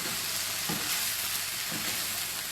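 Vegetables being stir-fried and mixed in a pan for meatless noodles, a dense steady sizzle with occasional soft scraping stirs, close and continuous with no talking.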